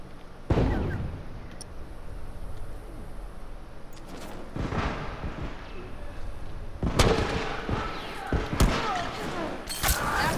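Gunfire in The Last of Us Remastered multiplayer: several sharp shots spread unevenly through the clip, with a quicker burst of louder cracks near the end, heard over game ambience.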